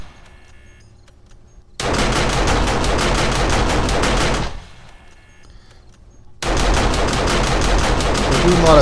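Automated turrets fire rapidly in 7 Days to Die, with two dense bursts of loud, continuous gunfire separated by a brief quieter pause full of game ambience.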